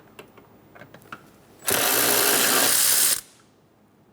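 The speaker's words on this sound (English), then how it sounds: "Using a 12mm socket, remove the nut on either side of the master cylinder." A power tool drives a 12mm socket off a master cylinder nut on a 2003-2007 Honda Accord, a loud continuous whir of about a second and a half following a few light clicks.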